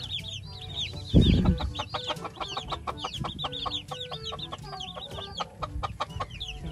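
Hens cluck in rapid uneven bursts at a backyard poultry farm, with chicks peeping high and steady nearby; a single dull thump lands early on.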